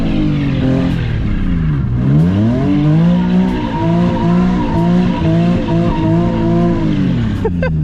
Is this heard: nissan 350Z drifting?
yes